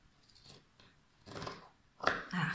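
Scissors snip through fabric in a few short, crunchy cuts, close up and fairly quiet, with brief pauses between them.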